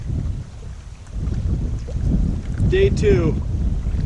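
Wind gusting over a microphone on a solo canoe trip, a heavy low rumble that swells and buffets, while someone briefly speaks.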